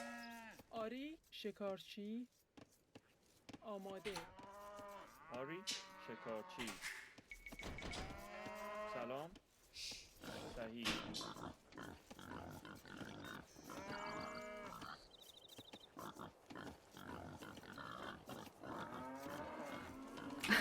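Video game cows moo repeatedly in short and long bursts, with pig-like grunts and other game sounds mixed in, while a commentator talks over them throughout.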